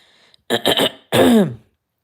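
A short throat-clearing burst followed by a single harsh cough, close and loud, with quiet between.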